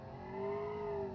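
A supercar drifting in the racing game Automation gives a brief whining engine note that rises and holds for about a second, loud and alone.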